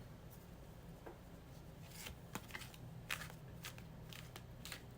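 A tarot card deck is shuffled by hand, giving soft, papery riffles and light crackling flicks at irregular intervals, quiet and close, with no talking.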